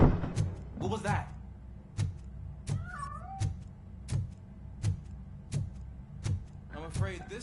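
A cat meows repeatedly in the video game RoboCop: Rogue City, several short rising cries among sharp rhythmic clicks and thumps, close and fairly loud, with some talk around it.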